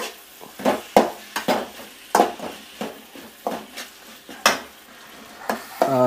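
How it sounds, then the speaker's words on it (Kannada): A spoon stirs tomato gojju frying in a pan, scraping in about a dozen irregular strokes over a low background sizzle, close and clear with no voices. "ಟೊಮೆಟೊ ಹಣ್ಣು ಹಾಕ್ಬಿಟ್ಟು ಒಂದು ನಿಮಿಷ ಈ ಥರ ಅಳ್ಳಾಡಿಸ್ಬಿಟ್ಟು"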